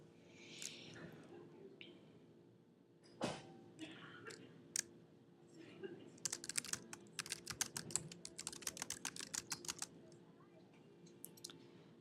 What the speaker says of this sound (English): I'm just typing a comment in here to the student.